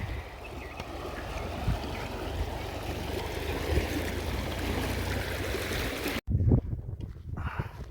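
A small river stream flows steadily, a continuous close rushing and burbling that holds for about six seconds before abruptly cutting out, then returning more faintly with a few bumps.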